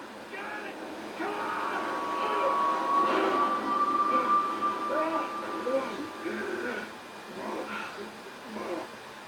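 A train rumbles past in the Red Dead Redemption video game, with a long steady whistle tone over the rolling noise, while voices talk over it.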